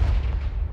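A brief booming blast from the Confringo spell in Hogwarts Legacy, a single deep explosive thud with a rumbling tail that fades within a second.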